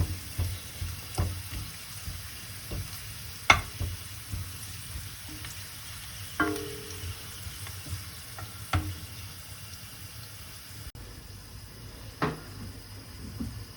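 Olive oil in a shallow pan sizzles softly as flavourings infuse in it for an Italian lentil dish. The background stays gentle and steady, broken by occasional light clicks and taps of a utensil.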